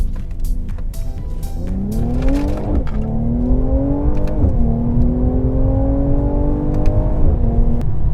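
A Mercedes-AMG C43 sedan's engine revs up through rising gears while accelerating onto an expressway, each climb in pitch ending in a shift, with steady road noise underneath and no talking.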